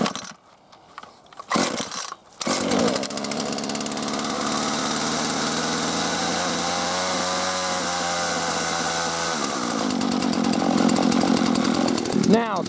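A Husqvarna 120 chainsaw on a hot day: a few short pull-start bursts, then the engine catches and runs loudly and steadily for several seconds before dropping back to a rough idle.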